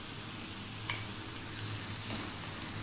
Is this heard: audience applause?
no